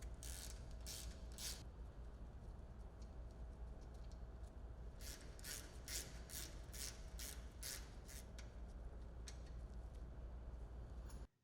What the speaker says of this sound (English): loosen the pad adjuster screw, but do not remove. Then, remove the caliper fasteners.